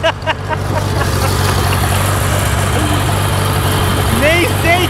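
A gasoline tractor with no fenders runs close by with a steady, throbbing mid-pitched engine drone that holds constant throughout, with faint chirps and squeaks near the end.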